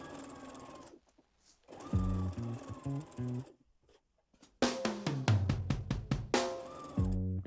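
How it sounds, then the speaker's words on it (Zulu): A sewing machine stitches the neckline of a child's cotton-style dress top in several bursts of rapid, steady needle chatter, separated by short pauses and quiet handling. "Ngisathunga la i-arm, ngisathunga umqala phela we-top yami."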